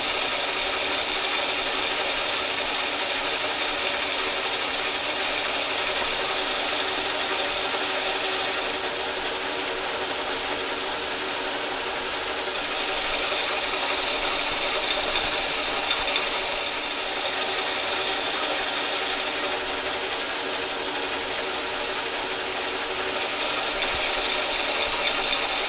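A metal lathe cutting threads, giving a steady close mechanical whir with a faint ticking rattle that runs on evenly throughout, with no talking.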